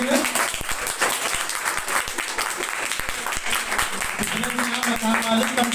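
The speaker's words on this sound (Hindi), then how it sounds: "इस एक्ट के लिए एक बार जोरदार तालियां हो जाएं बच्चों के लिए।" An audience at a Republic Day celebration claps for a children's act, a dense and fairly loud burst of applause that runs the whole time, with a voice speaking over it near the start and end.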